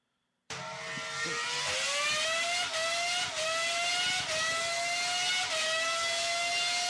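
Formula One car engine revving in a high, rising whine that climbs in stepped surges like gear changes, starting abruptly and holding loud and alone for several seconds.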